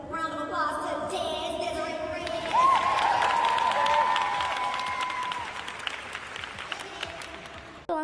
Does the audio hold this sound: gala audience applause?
yes